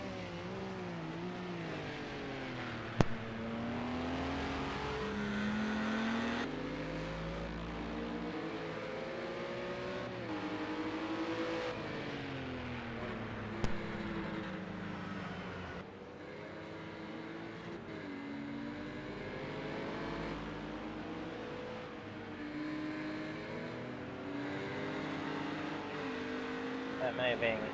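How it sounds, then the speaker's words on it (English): A Ginetta GT4 race car in Project CARS 2 at Fuji roars up from behind, engine notes rising and falling through gear changes and revs, loud and sustained with other cars in the mix while a commentator talks. "Sounds like a Janetta roaring up behind."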